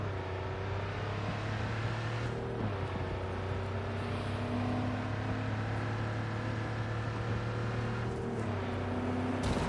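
A Cyberpunk 2077 car races off with a steady, droning engine hum that holds throughout, broken by a few brief shifts in pitch, close and constant without talk.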